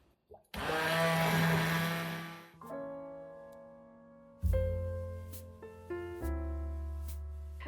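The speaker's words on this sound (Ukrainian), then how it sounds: "Так, ну що, блендернемо." A blender whirs loudly, its motor pitch dropping and surging in several bursts as it purees asparagus soup, starting abruptly after a brief quiet moment.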